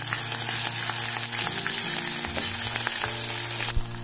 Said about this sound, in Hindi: लहसुन गोल्डन ब्राउन हो गया, अब हम इसमें जीरा शामिल कर देंगे